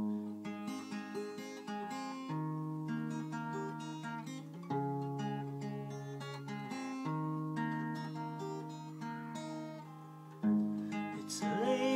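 Fingerpicked guitar plays the pattern of a song, with steady picked notes ringing over bass notes for about twelve seconds, moderately loud and with no talking.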